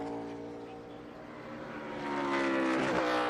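NASCAR race cars take to the track at Watkins Glen during qualifying for the 2022 Sunoco Go Rewards 200, their engines droning steadily, then swelling louder as a car closes in and passes.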